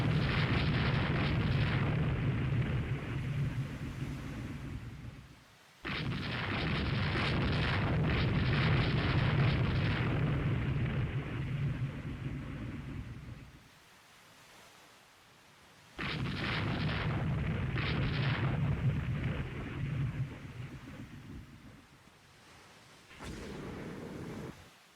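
Naval guns and shell explosions in the warship strategy game Rule the Waves 3: long rumbling bursts of heavy booming fire separated by short quiet gaps, loud and continuous while each salvo lasts.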